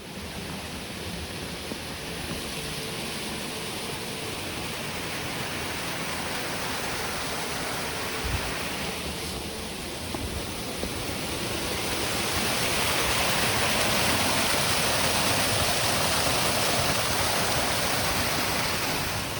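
A waterfall in Japan roars as a constant broadband rush, steady and fairly close, swelling slightly louder toward the end with no voices.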